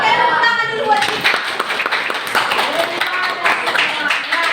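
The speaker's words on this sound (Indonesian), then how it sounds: "Oke, tepuk tangan dulu buat kita." A school religion class claps together, a dense patter of many hands that runs for several seconds with no pause.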